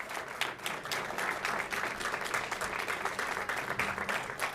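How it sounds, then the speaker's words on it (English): Sustained audience applause fills a school reading competition finals, dense and steady throughout with no voices over it. "One last round of applause,"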